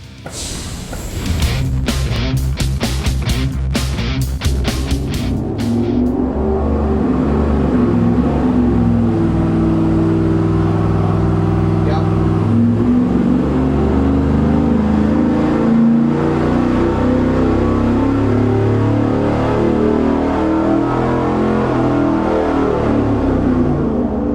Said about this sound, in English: we pulled the HT383 GM crate engine out of my Daily Driver 72 carryall and threw it on the dyno